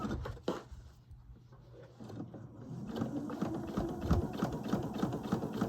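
A sewing machine stitches a velvet princess gown just inside a base stitch, with a brief start followed by a steady, close, continuous mechanical whir and rattle.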